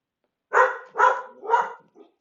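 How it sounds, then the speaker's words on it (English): A dog at home barks three times in quick succession, loud and close, followed by a softer, shorter fourth bark; no one speaks over it. "Really sorry about my dog."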